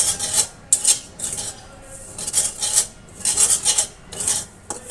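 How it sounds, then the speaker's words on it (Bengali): Blended puffed rice (khoi) roasted dry in a pan for a fried-grain pitha, stirred quickly over low heat: repeated raspy scraping and rustling strokes in irregular bursts, close and clear with no talk. "এবার যে খইটা ব্লেন্ড করেছি সেটা সবগুলোই রোস্ট করে নেব।"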